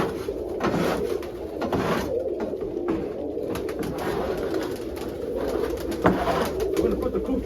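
Pigeons coo in a loft, soft rolling coos overlapping at close range with light rustling and shuffling beneath them, continuous and moderately quiet.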